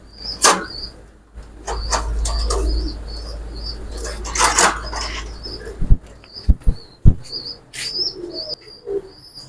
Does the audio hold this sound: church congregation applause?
no